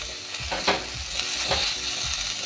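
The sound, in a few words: eggplant cooking with spices in pan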